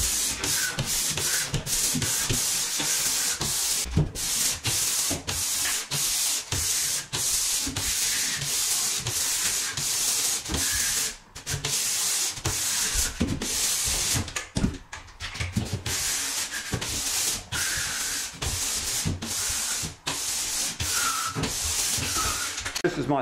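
Steady, continuous abrasive rubbing of 180-grit no-fill sandpaper on a pole sander against a ceiling surface, rasping back and forth in a constant rhythm, fairly close and loud throughout.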